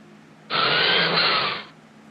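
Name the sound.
power tool sound effect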